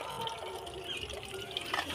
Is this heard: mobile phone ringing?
no